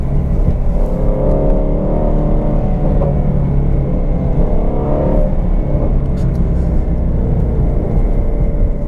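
A Ford Mustang GT350 engine rumbles loudly and steadily through a resonator-deleted exhaust, revving up and down to 3,000–4,000 RPM in repeated throttle blips with a few crackling pops.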